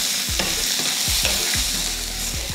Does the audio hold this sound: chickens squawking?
no